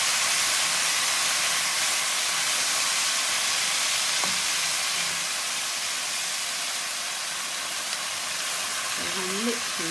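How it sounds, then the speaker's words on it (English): Rice for a mushroom and spinach risotto sizzling in a pan, a steady broad hiss throughout as liquid is added, with a voice briefly near the end. "So here it's sizzling, which is good."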